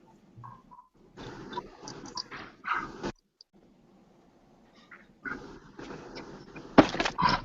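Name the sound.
dog whimpering and barking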